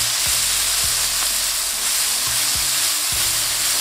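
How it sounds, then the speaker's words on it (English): Onions frying in oil in a pan over medium heat, a loud, dense, continuous sizzle close up, with a few low scraping strokes as they are stirred. "Give that a mix and get a golden brown color on those onions"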